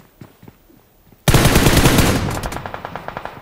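Automatic gunfire in the video game BGMI, a sudden loud burst of rapid rounds that tapers into a stuttering run of shots, after a few quiet clicks.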